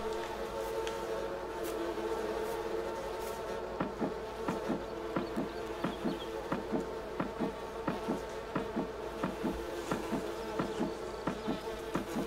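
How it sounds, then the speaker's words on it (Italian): Bees buzz around beehives in Farming Simulator 19, a continuous droning hum with a steady rhythmic pulsing of short bursts running through, close and alone without talk. "Già stanno a uscire le apette."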